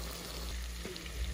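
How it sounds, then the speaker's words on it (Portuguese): Linguiça sausage frying slowly in a pan on a wood-fired stove, a steady soft sizzle and crackle throughout, fairly quiet and close, with no talk. "E a linguiça tá aqui fritando bem"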